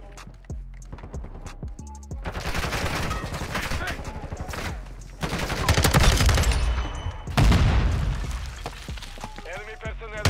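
FSS Hurricane submachine gun fire in Modern Warfare II, rapid bursts crackling through a busy multiplayer match, with loud sustained volleys mixed among other battlefield noise and game announcer voices.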